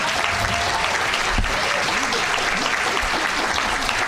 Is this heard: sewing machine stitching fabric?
no